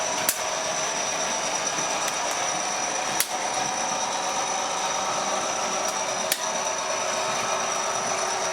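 A model analogue locomotive running on model railway track, a steady close mechanical whirr and rattle with a few sharp clicks spread through the run.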